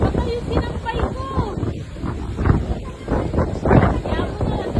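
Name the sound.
strong wind before a storm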